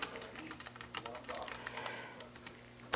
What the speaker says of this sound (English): this happens when you have a very long password and you try to type fast